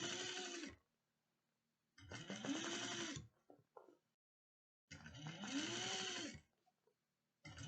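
Sewing machine top stitching a fabric bucket bag, running in two long steady whirring bursts separated by pauses, close and clear with small handling clicks between.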